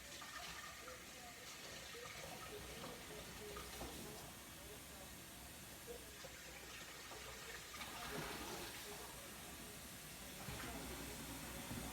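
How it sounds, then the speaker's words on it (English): Lukewarm water pours steadily into a bowl of potato dough mix with yeast, a soft continuous splashing wash that stays at an even, low level throughout. "And you add your water, lukewarm water."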